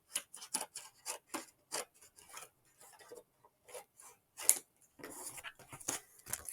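Scissors snip through fabric for fussy cutting a quilt piece, a string of quick crisp cuts in short bursts with small pauses, close and fairly quiet.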